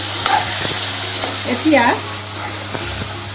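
Boiled jackfruit is stirred with chili powder in a frying pan, with a steady sizzle and scraping stirs throughout and a brief, faint voice-like tone in the middle.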